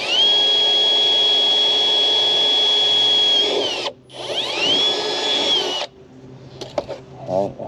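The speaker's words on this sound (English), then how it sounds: "we're going to go ahead and drill this one" A power drill whines loudly at a steady pitch for about four seconds while drilling a hole in a Honda Talon 1000R side-by-side, pauses briefly, then runs again before stopping, followed by faint clicks and handling.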